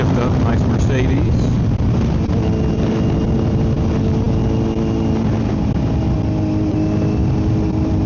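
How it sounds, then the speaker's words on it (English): Kawasaki Z900 motorcycle with a full M4 exhaust and ECU flash, heard while riding as a loud continuous engine drone buried in heavy wind buffeting on the microphone, with the rider talking over it. "the exhaust is obviously sounds better with the tune"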